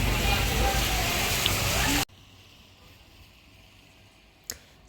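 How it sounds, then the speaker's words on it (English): Steady broadband hiss of heavy rain that drops abruptly to a much quieter patter, with a brief sharp sound near the end. "A lot more rain."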